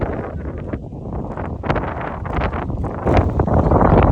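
Steady wind buffeting the microphone on an outdoor walk in the Peak District, a broad rough rumble that swells louder toward the end, with no clear voices.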